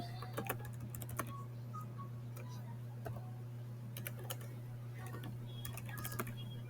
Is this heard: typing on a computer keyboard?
yes